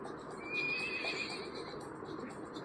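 A horse whinnies loudly in a children's song about tailed animals, one sustained, wavering neigh that rises and trails off over a soft background, with no talking.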